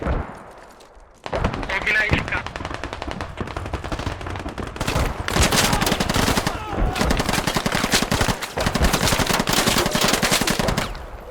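Rapid bursts of machine gun fire in the video game Squad, loud and sustained, coming in rattling volleys with brief pauses between them.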